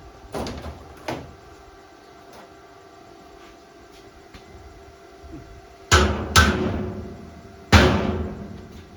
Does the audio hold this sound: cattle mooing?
no